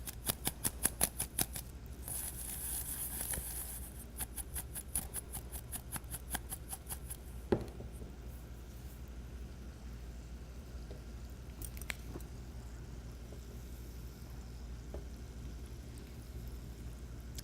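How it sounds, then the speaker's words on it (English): Warm donut holes tossed in cinnamon sugar, a fast series of close, soft clicking and rattling taps at the start, then quieter scattered rustles and faint thuds. "Just gonna throw my donut holes right in the cinnamon sugar and give them a little toss"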